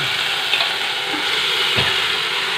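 Shallots and curry leaves fry in hot coconut oil with a dense, steady sizzle, close and loud throughout, with a couple of faint stirring bumps and no talk.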